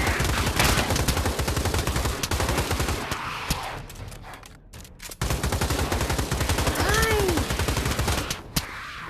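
A minigun in the shooter game Pavlov fires long, loud, continuous rapid bursts, cuts off briefly midway, then roars again with a few trailing shots; a voice speaks one short word.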